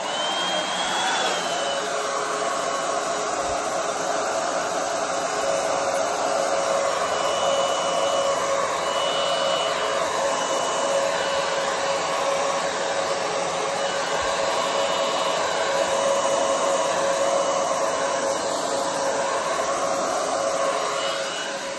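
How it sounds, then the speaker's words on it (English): A hair dryer on a cool, high setting blows steadily on acrylic paint for a Dutch pour, a loud, constant whirring roar with a faint whine that barely changes from start to finish. "when you're blowing your paint out, you want to put your blow dryer on cool and high."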